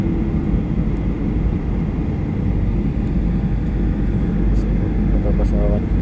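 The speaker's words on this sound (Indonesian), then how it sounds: "737. Bentar lagi landing di Bandara Soekarno Hatta guys." A Lion Air Boeing 737 comes in to land at Soekarno-Hatta airport, its loud, steady engine roar filling the whole stretch while a person talks over it.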